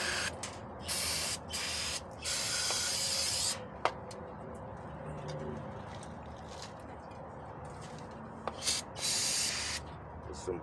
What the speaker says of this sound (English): With some brake cleaner.